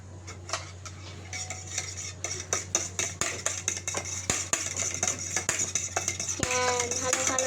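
Utensils stir noodle soup with salt in a pot, giving a rapid run of metallic clinks and scrapes against the pot that grows busier over several seconds, over a low steady hum.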